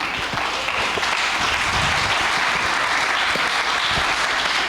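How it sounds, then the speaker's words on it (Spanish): A church congregation breaks into sustained applause during a service, a dense, even wash of many hands clapping at once that stays loud and steady from start to finish. "¿Qué tal si le damos un fuerte aplauso a Dios?"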